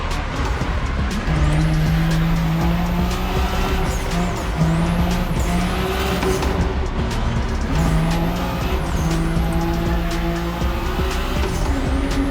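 A car drifts hard in The Crew Motorfest racing game, its engine droning steadily while repeated tire squeals sweep up and down across the corners, loud and continuous throughout.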